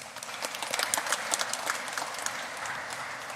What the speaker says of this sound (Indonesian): Dari wilayah 5 kita beri aplaus bagi mereka.